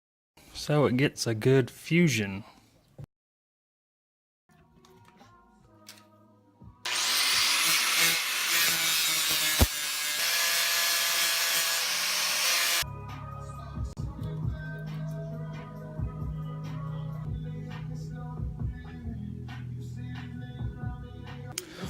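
Power tool sanding or scuffing the edges of a metal brake caliper bracket ahead of welding, a loud, harsh whine running for several seconds, then a lower rumbling buzz continuing, with talk before it starts.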